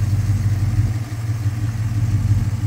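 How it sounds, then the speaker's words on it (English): A restored Toyota FJ60 fitted with a V8 sits idling, giving a steady, deep, even rumble with a slight pulsing throb, close by and unbroken, with nobody talking. "It idles down really nice."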